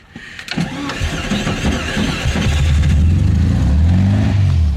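A 1974 VW Beetle engine cranks with a rapid starter whir and sputters before catching, then settles into a loud, uneven idle close by, with no talking.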